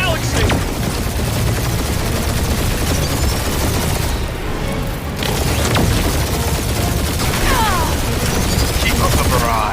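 A dense, continuous barrage of gunfire and booming blasts roars throughout a Guardians of the Galaxy battle, loud and close, with occasional game effects and voices under the shooting.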